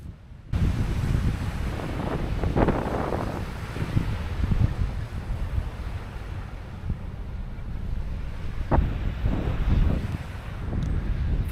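Strong wind buffets the microphone on the coast of one of the Isles of Scilly, a steady low roar with gusts and surf-like rushing throughout and no voices.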